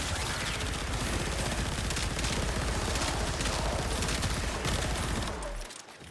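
Rapid gunfire from the Tenet Diplos weapon in the video game Warframe, a dense, continuous barrage of loud close shots that runs unbroken for several seconds before tapering off at the end.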